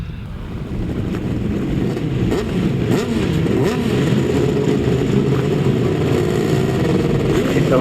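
Grasstrack racing motorcycles roar off the start line together, engines loud and sustained with rising revs and gusts of wind noise throughout.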